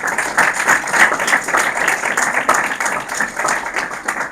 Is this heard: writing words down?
no